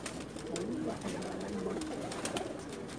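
Close pigeon cooing on a rooftop loft in Jeddah, soft rolling coos repeated over a few seconds against steady background noise.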